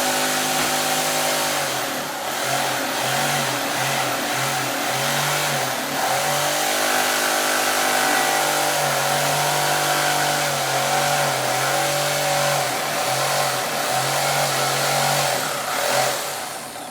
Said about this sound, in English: So I'm going to place the jigsaw back in there.